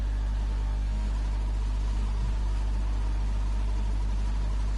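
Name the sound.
glitching car gearbox in a racing video game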